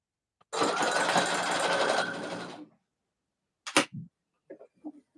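A sewing machine stitches elastic in one fast burst of about two seconds, then stops; a couple of short mechanical clunks and faint handling noises follow, close by.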